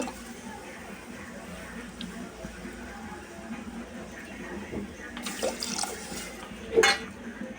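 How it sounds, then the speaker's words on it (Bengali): Water poured onto sugar in a pan to make jalebi syrup, a soft continuous splashing stream that swells toward the end with a brief sharper clink, quiet and close. "আর এখানে দিয়ে দিলাম পানি।"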